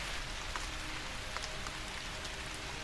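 Steady rain falls in a constant, even hiss with scattered drop patters, with no voices and no pauses.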